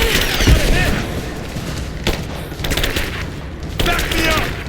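Gunfire bursts and a grenade blast in Rise of the Tomb Raider combat, with thumping booms around 2 and 3.8 seconds over steady battle noise, while voices shout under the fighting.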